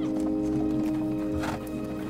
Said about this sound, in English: I'm worried about these horses.